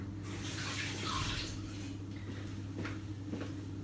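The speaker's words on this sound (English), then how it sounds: "I'm gonna go and wet my hands." A kitchen tap runs briefly as hands are wet for handling sourdough, a short close splash of water followed by softer movement noises over a steady low hum, with no talking.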